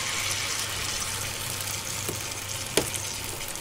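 A spoonful of batter for potato cheese pockets sizzling in a pan over low heat, a steady close hiss with a couple of small clicks near the end, no talking.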